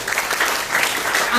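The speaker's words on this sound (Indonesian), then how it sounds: "Tepuk tangan buat prudensial." A brief burst of audience applause at a sales talk, dense and even, with some voices mixed in.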